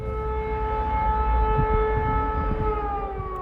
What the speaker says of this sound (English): Another air raid siren.